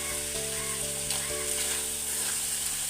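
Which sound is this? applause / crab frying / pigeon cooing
crab frying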